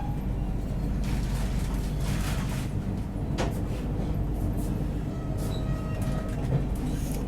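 The Dayodaya Express stands at a platform at Kota Junction, with continuous rumbling rail noise, a brief clank and faint squeals over the station din.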